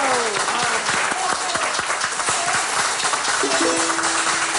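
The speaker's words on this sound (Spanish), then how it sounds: "Un aplauso para ellos." Loud, close applause from a television studio audience on a Chilean variety show, dense clapping with sharp individual hand claps cutting through, while musical tones rise underneath toward the end.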